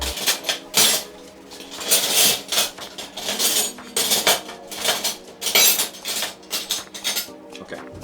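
Metal cutlery clatters and clinks as someone rummages through a utensil drawer for a fork, with quick, uneven bursts of jangling silverware, close and fairly loud, and no talking.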